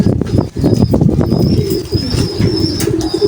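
Racing pigeons cooing inside a loft, with soft repeated coos and wing flutters close by over a busy background.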